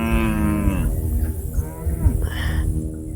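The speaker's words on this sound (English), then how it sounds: "And the cows have come over to say hello." Cattle on a Florida ranch give two loud, drawn-out moos close by, with quieter lowing between them and a little background murmur.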